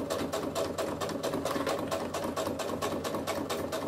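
Sewing machine stitching a zipper onto a small flat coin purse with a zipper foot, a steady fast mechanical chatter running continuously and close up, with no talk.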